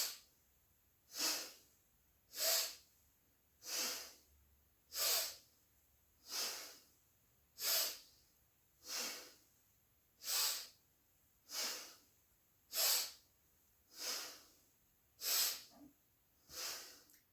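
Forceful nasal breathing during yoga spinal flexes, thirteen sharp, hissing exhales at an even rhythm of about one every 1.3 seconds, close and clear, with quiet gaps between them.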